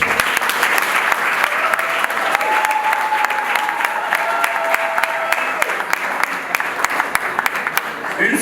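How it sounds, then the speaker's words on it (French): Wedding guests applaud the newly married couple, a sustained wash of clapping across the whole span with a faint steady tone running beneath it through the middle. "je voudrais que le couple soit applaudi très fort"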